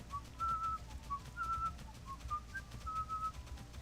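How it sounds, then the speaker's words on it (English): A person whistles a short, wavering tune in a quiet village setting, a series of clear melodic notes in phrases, close and fairly faint with no talk over it. "Oh, just having a whistle."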